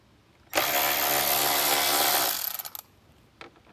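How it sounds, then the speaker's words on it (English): Power driver backing out screws from a trim panel inside a 2024 Jeep Wrangler JL, a loud steady whir for about two seconds, then trailing off into light rattles and handling sounds. "So next I'm going to take these 2 screws off to take this piece out"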